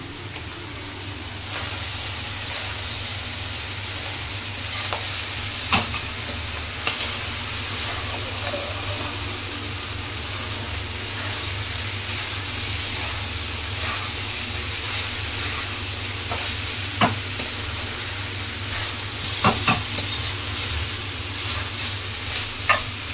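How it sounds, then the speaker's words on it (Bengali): Vegetables frying in oil with turmeric and salt give a steady, close sizzle and hiss throughout, with occasional sharp clinks of a utensil stirring the pan and no talking. "সবজিগুলোকে ভালো করে ভেজে নিলে হয়ে যাবে।"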